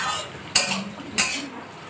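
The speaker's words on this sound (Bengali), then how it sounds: "ভেজে রাখা ভেন্ডিটা ভালো করে মিশিয়ে নিয়ে" A metal spoon scraping and clinking twice against a pan while fried okra is stirred into a spice mix, two sharp distinct strikes over a soft background hiss.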